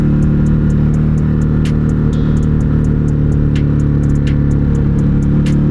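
A Ducati Hypermotard 950 RVE motorcycle being ridden over hilly roads, its engine a loud, steady low rumble throughout with a constant drone and faint ticking on top, no talk.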